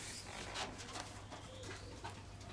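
Soft, faint pigeon coos recur a few times over a steady low hum, with no one speaking.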